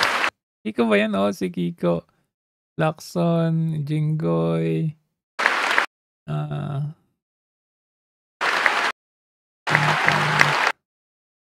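Sparse lawmakers' applause at a Philippine state of the nation address comes in a few short, scattered bursts of clapping between stretches of someone talking, each burst brief and quickly fading.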